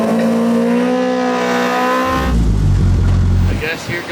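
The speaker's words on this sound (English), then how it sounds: "Now, the first competition is going to be the burnout competition." A car revs hard for a burnout in a farm-equipment-versus-race-car competition, a loud sustained engine howl that drops into a rumbling, grinding low roar as the tires spin, with crowd voices underneath.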